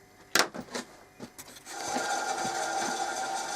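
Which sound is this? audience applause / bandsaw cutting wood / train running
bandsaw cutting wood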